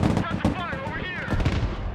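Gunfire bursts in the real-time tactics game Broken Arrow, steady overlapping shots beneath voiced unit radio chatter throughout.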